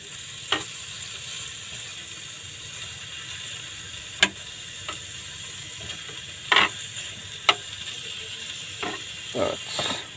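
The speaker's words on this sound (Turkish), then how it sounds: "Cızırdamaya başladı bile." Soft, steady sizzling of meat in a pan with very little oil, broken by occasional sharp clicks and scrapes of a utensil.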